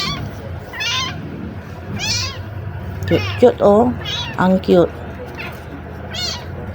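A small kitten, apparently abandoned, meows repeatedly in thin high cries, close and clear, while someone talks over and between the calls.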